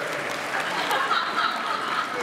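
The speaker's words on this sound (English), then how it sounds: "let's applaud against" An audience at a Comic-Con panel breaks into applause, a moderate wash of clapping from a crowd in a large hall, steady through the moment.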